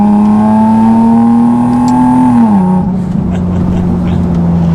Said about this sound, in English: You get that blip in the throttle, which is awesome.